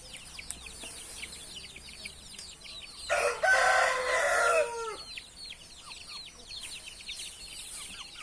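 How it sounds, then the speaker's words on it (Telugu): Country chickens cluck and chirp steadily in the background on a poultry farm while a rooster crows once, loud and close, in a long rising-and-falling call. "ఇవి ప్రజెంట్ ఉన్న కోళ్ళు"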